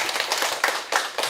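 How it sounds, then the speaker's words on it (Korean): Audience clapping at a Masan YMCA candlelight lecture: a short burst of applause with a few sharper claps standing out from the steady patter, no talk. "박수 한번 보내주세요"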